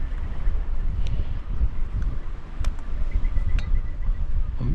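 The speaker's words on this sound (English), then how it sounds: "The wind's picked up." Steady coastal wind rumbles and buffets across the whole stretch on a walk from Workington to Allonby, with a few faint high clicks and knocks on top, no talking.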